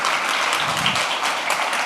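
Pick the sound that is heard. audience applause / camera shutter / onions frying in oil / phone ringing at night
audience applause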